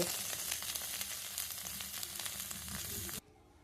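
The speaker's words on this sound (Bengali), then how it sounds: "আমি 2-3 মিনিট একটু ভেজে নিয়েছি, খুব বেশি ভাজিনি, অল্প একটু করে নেড়ে নিয়েছি।" Soybean chunks fry in a kadai with a steady, loud sizzle lasting about three seconds, then stopping abruptly into near silence.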